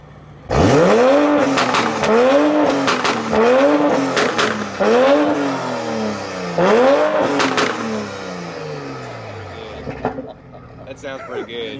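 Toyota Supra launching with its engine revving hard, a series of rising, swooping revs repeated about six times, with sharp pops and cracks like gunshots, loud and close before fading at the end.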